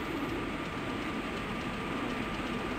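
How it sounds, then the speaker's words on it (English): A Class 24 or 25 diesel locomotive idles in the OpenRails train simulator, a steady continuous engine rumble with a faint tonal hum, constant and close, with no talking. "Our train is in the station."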